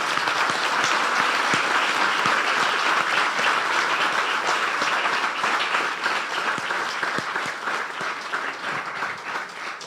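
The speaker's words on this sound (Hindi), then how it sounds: "बजा दें यस्सु के जलाल के लिए तालियां" Church congregation at Ambassadors of Christ Apostolic Church in Dubai applauding during a sermon, a dense, steady wash of many hands clapping that holds for about ten seconds and eases slightly toward the end.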